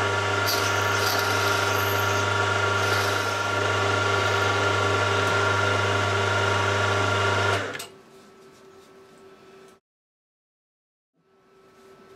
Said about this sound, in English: all I want to do is drill two center holes, drill it out to 5mm and tap it to M6.